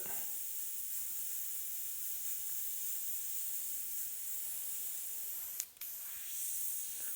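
An airbrush sprays paint in a steady, continuous airy hiss, close and fairly even, with a brief sharp blip near the end and no talk.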